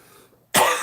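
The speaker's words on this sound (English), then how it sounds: "I woke up with this awful cough this morning" A single abrupt cough bursts out close up after a moment of near silence, harsh and breathy.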